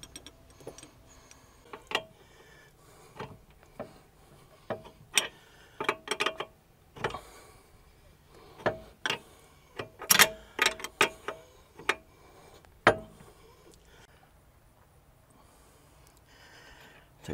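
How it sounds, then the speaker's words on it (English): Lug nuts coming off a 2005-2011 Cadillac STS under a hand ratchet: irregular bursts of sharp mechanical clicks and ticks, some clustered, some spaced out, close by with quiet stretches between. "take off all these lug nuts"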